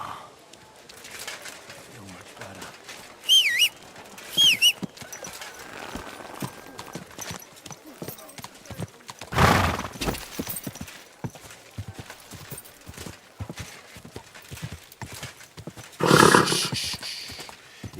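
Horse hooves clip-clop steadily in the video game Kingdom Come: Deliverance II, a continuous rhythmic trot heard close up, with brief voices and a couple of louder bursts breaking in.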